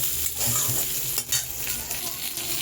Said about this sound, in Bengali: তাই এই কারণে আমি বেগুনটা আগে দিলাম তেলে।